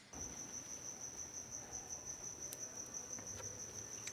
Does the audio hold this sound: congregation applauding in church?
no